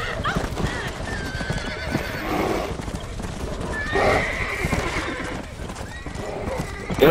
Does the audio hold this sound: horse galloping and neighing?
yes